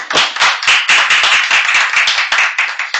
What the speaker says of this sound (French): un tonnerre d'applaudissements s'il vous plaît dans les studios